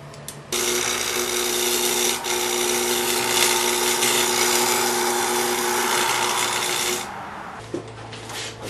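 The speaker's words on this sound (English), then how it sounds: "You want a nice smooth weld." Stick welding on a filter press rod: a continuous crackling, sizzling hiss with an electrical hum starts abruptly and runs for about six and a half seconds before cutting off.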